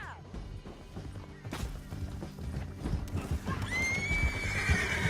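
A horse neighs and galloping hooves pound along under a busy video game soundscape from Red Dead Redemption 2, with clattering effects and a rising whine toward the end.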